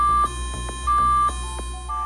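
Alarm tone of an AMSCO 400 Series medium steam sterilizer: repeated electronic beeps in a rhythmic pattern, clear and close, with no voices.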